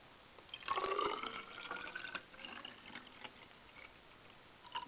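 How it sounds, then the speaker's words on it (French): Water is poured into a graduated cylinder to about 90 ml in a lab setting, giving a short, close trickle and splash that fades into faint dripping. "nous commençons par mettre dans notre éprouvette graduée à peu près 90 ml d'eau"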